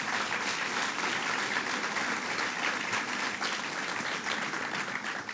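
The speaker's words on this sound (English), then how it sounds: "So let's give them a round of applause" Steady, loud applause from an audience at a government announcement event, dense clapping continuing evenly throughout without any talk.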